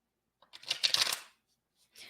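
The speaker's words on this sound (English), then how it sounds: "I am shuffling my deck" Tarot cards being shuffled, a quick riffling burst of papery flutter lasting under a second, close by, then a brief softer rustle.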